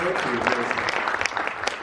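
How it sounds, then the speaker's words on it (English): An audience at a business summit applauds, a dense steady wash of many hands clapping together, fairly loud and continuous throughout. "we'll give Edward an applause because he's a founder of research."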